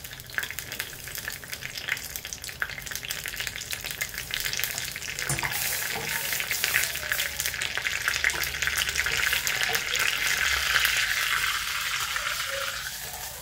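Mustard seeds, fenugreek, dried chillies and curry leaves sizzling steadily in hot oil for a tempering, a continuous close crackling hiss with faint popping throughout and no talk.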